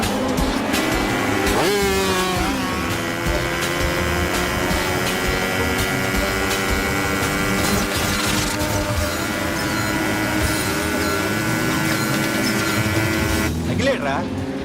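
Motorcycle engine revving hard as the rider lifts the bike into a wheelie, loud and continuous throughout with a sharp rise near the start and another surge at the end, mixed with crowd voices and talk.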